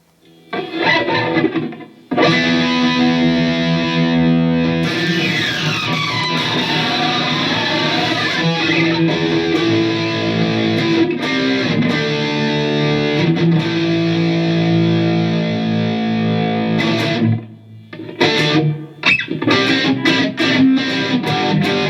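An electric guitar played through a Fender Mustang Micro headphone amp with a distortion effect gives sustained, buzzing chords that ring out at a steady loudness, pause briefly, then return as short choppy strums.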